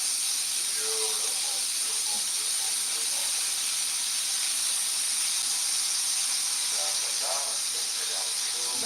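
Marinade poured onto cooking oxtails sets off a loud, steady hiss of steam and sizzle that holds for about nine seconds, with faint voices under it.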